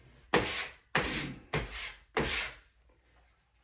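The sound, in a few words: sanding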